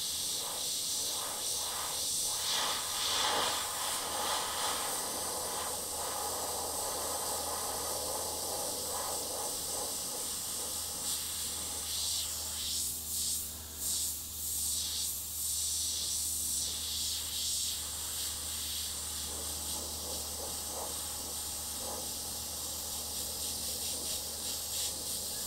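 Airbrush spraying paint through a stencil for a skull design, a steady soft hiss of air and paint running continuously at close range with small fluctuations.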